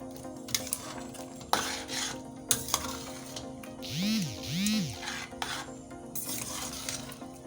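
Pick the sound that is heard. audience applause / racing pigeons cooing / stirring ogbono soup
stirring ogbono soup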